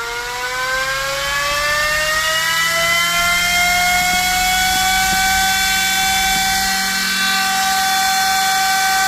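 A 12-volt, 3.25-amp, 3-inch double-motor server fan running off an adapter spins up to high speed, its loud, piercing whine climbing steadily in pitch and then holding as a constant close drone.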